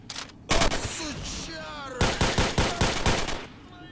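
Gunfire in the video game STALKER: Shadow of Chernobyl: a loud single shot, then after a pause a rapid string of about six close bursts, with a brief voice near the start.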